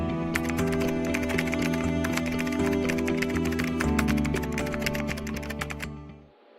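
Code being typed on a computer keyboard in a continuous, dense stream of rapid key clicks that runs steadily for several seconds, then stops abruptly near the end.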